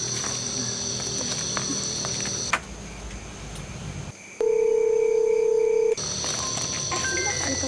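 A telephone in an Indonesian horror film gives a steady electronic tone in the middle of the scene, set against ambient room noise that changes abruptly before and after it.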